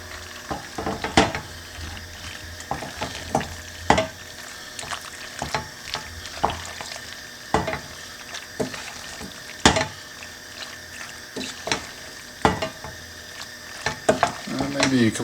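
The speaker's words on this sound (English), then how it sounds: "We're going to put that back on the heat, get some more heat into there, get all those flavours mixing together." Pasta with cheese and black pepper is stirred in a hot pan, giving a soft background sizzle with repeated scraping and clacking of a utensil against the pan at an irregular pace, close and moderately quiet.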